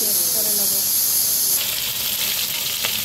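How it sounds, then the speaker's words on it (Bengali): Pabda fish pieces frying in hot oil, one after another, for a cashew-mustard pabda curry: a steady close hiss and sizzle that grows louder and brighter halfway through, with faint tonal sounds early on. "আমি এখানে মাছগুলো আগে ভেজে নেবো, একে একে ভালো করে ভেজে নিতে হবে"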